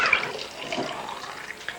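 Water pours steadily into a soft drink bottle to measure out one liter, a soft continuous splashing trickle close by with a small gurgle near the start, heard alone without talk.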